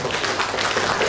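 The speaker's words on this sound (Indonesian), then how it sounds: "tepuk tangan dulu mereka berdua" An audience claps for two people standing on stage at a Democratic Party gathering in Bengkulu: a steady, dense wash of many hands clapping together, moderately loud and unbroken throughout.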